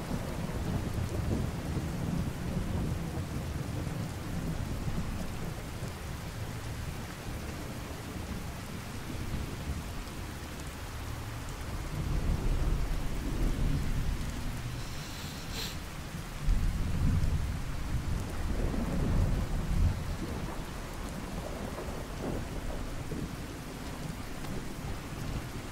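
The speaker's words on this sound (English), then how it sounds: "It's a nice effect that it doesn't rain as such under the bridge here." Steady rain and rolling thunder from a storm in the video game Fallout 4, a continuous hiss of falling rain with deeper rumbles swelling midway, heard on its own without talk.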